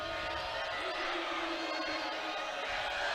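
A women's college volleyball arena crowd, Penn State against Michigan State, swells into a steady, dense roar of cheering that fills the space continuously, heard from a distance without a break.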